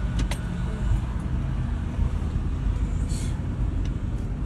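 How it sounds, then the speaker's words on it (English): A white car pulls out on a street, a steady low rumble of its engine and tires blending with ongoing traffic noise, fairly close and constant throughout. "The white car pulling from there."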